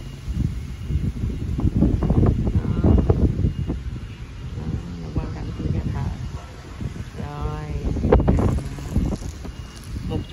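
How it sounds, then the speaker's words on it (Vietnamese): Strong, steady wind buffets the microphone at a castle undergoing restoration, a broad low roar that swells and gusts throughout while a person speaks over it. "Gió hù hù luôn nha các bạn."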